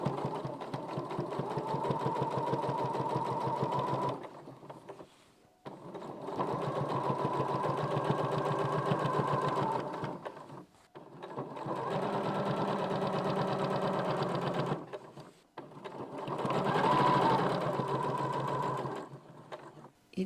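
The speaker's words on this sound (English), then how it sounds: "I'm just going to start by stitching down the right hand side of the fabric." A sewing machine stitches down the side of quilt-as-you-go fabric for a cushion cover, running in four long steady bursts of several seconds each with brief pauses between, close and even.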